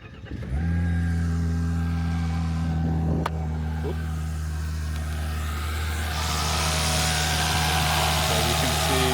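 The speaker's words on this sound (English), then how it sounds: "I'm gonna give it a startup, but you will notice without an engine cover, the injectors are loud as shit." A car engine without its engine cover starts and settles into a steady idle, with loud, rapid fuel injector ticking over the low hum. The sound is close and continuous, and there is no talk.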